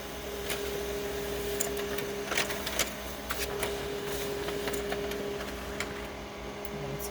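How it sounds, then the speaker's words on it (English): Label printer running a test print onto dark label stock, a steady mechanical whir with faint ticking and clicking bursts throughout, fairly quiet and continuous with no voices. "I'm going to send this to the printer, and then I am going to add the foil. I'm doing a test print."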